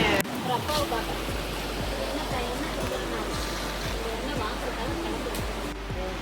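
Aakaya Gangai waterfall in the Kolli Hills roars as a steady, loud broadband rush of falling water, with people talking over it.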